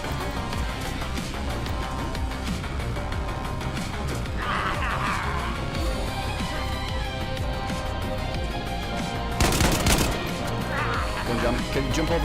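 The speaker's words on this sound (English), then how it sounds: "Shoot the zombies if you can." Gunfire aimed at zombies in DayZ on the Deer Isle map comes through as one sharp, loud crack-like burst late on, set against constant busy game noise and faint background voices.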